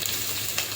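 Onions frying in hot oil for a masala dosa filling sizzle with a steady, close crackle through the whole short moment, no voices over it.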